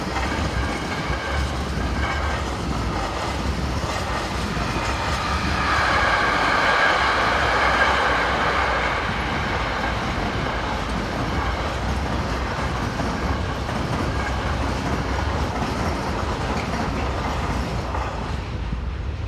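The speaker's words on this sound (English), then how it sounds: "Next we see 38608, heading a Bremerhaven to Prague container train." A locomotive hauls a Bremerhaven to Prague container train past, a steady, loud rumble and clatter of wagons rolling by close at hand, swelling briefly in the middle and continuing unbroken with no voices.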